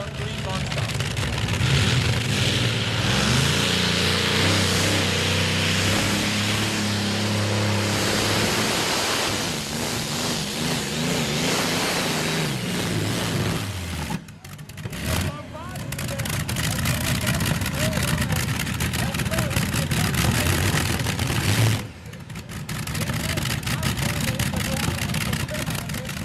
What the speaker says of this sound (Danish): Sådan lyder det, når en akse ligger i en turbo.